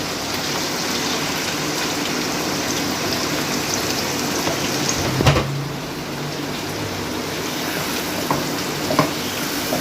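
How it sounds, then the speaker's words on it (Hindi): Beef liver fries in masala in a pan with a steady, dense sizzle and occasional stirring clinks and scrapes, heard close and alone. "अब हम इसमें ये कलेजी डालेंगे।"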